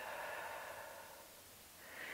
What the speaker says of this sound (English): taking a big deep breath in through the nose, and then exhaling out through the mouth